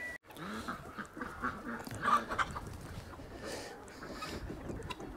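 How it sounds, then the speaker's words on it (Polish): A dark hen clucks faintly beside a dog kennel outdoors, with soft, low calls against quiet farmyard background noise. "Ta jedna ciemna kurka próbowała do budy wejść."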